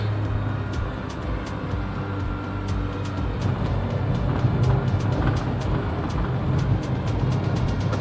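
A 2010 Nissan Livina's engine runs at a steady, even idle or cruise, a continuous low hum with rumble, heard from inside the car with the air conditioning on and no talking.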